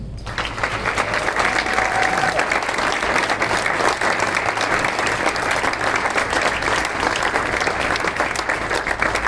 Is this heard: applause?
yes